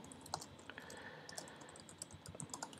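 Quick, irregular keystrokes on a computer keyboard while entering data into an Excel spreadsheet, light clicks close by and fairly quiet, with no talking.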